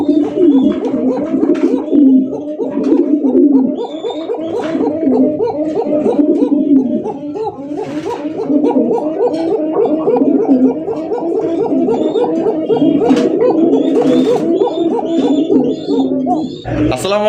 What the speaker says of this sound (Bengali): এক একটা নরের এক এক রকমের ডাকার স্টাইল দেখছেন।